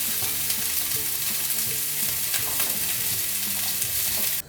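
A little oil sizzling in a sauté pan over the heat, a loud close crackling hiss that holds steady with faint stirring clicks, then cuts off at the end, no talking.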